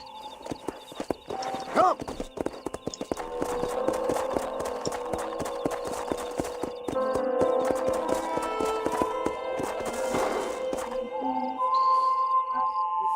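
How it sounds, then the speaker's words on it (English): Horse hooves clip-clop in a steady trot in the video game Red Dead Redemption, close and continuous over a game soundscape with a tonal music bed and occasional chimes. "Você domou Kentucky Soldier, um cavalo ágil e raro."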